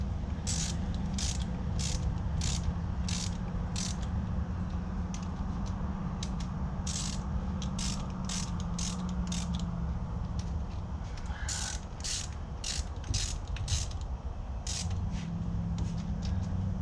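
A ratchet tightens bolts on a 2013 Hyundai Veloster with a misfire, giving a rapid series of close, crisp clicks in repeated bursts over a steady low hum.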